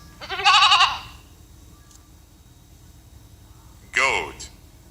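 Two short, loud goat bleats, each about half a second long, are heard close by and separated by a few seconds of quiet background.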